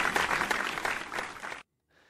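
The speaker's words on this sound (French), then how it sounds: "un chapeau bas et main d'applaudissement à Marco D'Amico" A studio audience applauds for a few seconds in dense, even clapping that stops abruptly, followed by a short quiet gap with faint sound at the very end.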